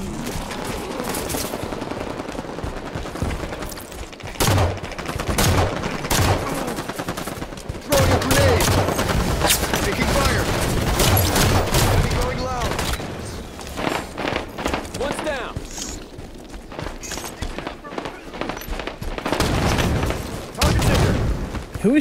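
Rapid automatic gunfire rattles through a Halo 5 multiplayer match in loud, dense bursts with sharp single shots and brief lulls between them.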